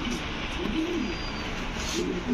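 Fancy pigeons at a pigeon farm, among them an almond-colored male, give soft low coos twice, nearby, over a steady background hiss.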